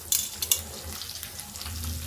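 Ivy gourds dropped into a hot pan of oil for a coconut fry, crackling and sizzling steadily with a couple of sharp bursts near the start as they hit the pan.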